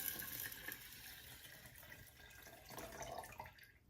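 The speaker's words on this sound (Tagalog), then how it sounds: "Ibubuhos ko yung, ano, tubig niya." Water is poured out of a bamboo plant container, a steady splashing trickle with faint dripping that trails off near the end, heard alone at low volume.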